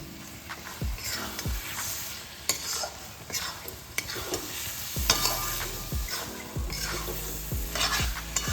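Chicken bharta is stirred with butter in a hot pan, giving a steady sizzle with repeated scraping and clinking strokes of a utensil against the pan, close and clear.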